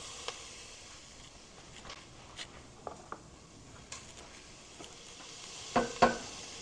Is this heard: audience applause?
no